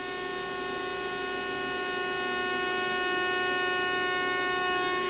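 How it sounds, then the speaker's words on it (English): A steady, buzzy sawtooth wave from a synthesizer VCO with a nasal edge, holding one pitch for several seconds and swelling slightly louder toward the end, with no voices. "Now this is the sawtooth, quite nasally, as you can hear."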